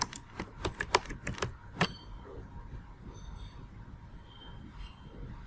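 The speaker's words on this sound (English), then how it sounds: "So here I'm going to type content writing." Bursts of computer keyboard typing, a quick run of clicky keystrokes in the first two seconds, then a quiet room with low background hum.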